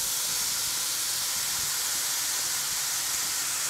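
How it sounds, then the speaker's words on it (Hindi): Rice hits a hot pan of stir-frying capsicum, carrot and onion over high heat, and a steady, loud sizzling hiss runs throughout without pause. "अब इसमें चावल डाल देंगे"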